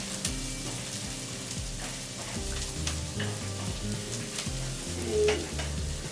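Dried vegetables sizzle and fry in a pan while making Chapagetti instant jajangmyeon, a steady crackling hiss with occasional stirring scrapes, close and continuous with no talking.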